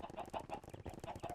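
Chickens in a Minecraft modpack give a faint, quick run of clucks in an even rhythm, heard alone without talk.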